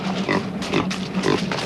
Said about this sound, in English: For a little pig, too.